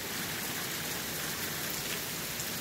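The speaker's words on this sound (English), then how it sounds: "My goodness, all this rain." Rain falls in a dense, steady hiss on outdoor surfaces, loud and unbroken from start to finish with no voices.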